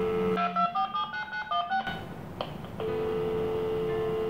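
A telephone dials a number, with a quick run of about nine short touch-tone beeps, then a brief click and a steady line tone that holds to the end.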